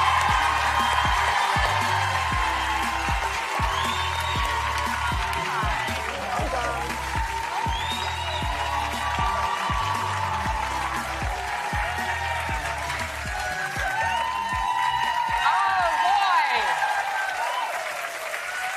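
Studio audience cheers and applauds for two Criminal Minds actors on a morning show: steady loud clapping and whoops throughout, with music and voices mixed underneath.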